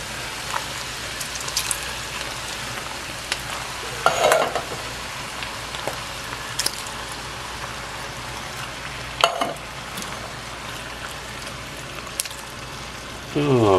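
Diced tomatoes are stirred into browned, drained beef and veggie chili in a pot, giving steady soft sizzling with wet scraping and a few louder clanks of the spoon against the pot.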